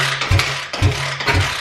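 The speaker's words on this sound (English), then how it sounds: "Now I'm going to kick it a few times, just see if I can get anything out of it." A dirt bike with a new kickstarter and an engine that won't fire, kicked over repeatedly: three heavy low thumps in a steady rhythm over a constant broadband mechanical rattle and hum, close and loud, with no voices.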